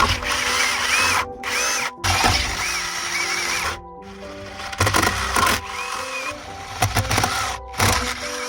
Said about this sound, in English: Now I'm gonna drill that out.